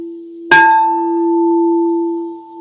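A single bell is struck once, loud and near, and its clear tone rings on and slowly fades over the next two seconds with no other sound.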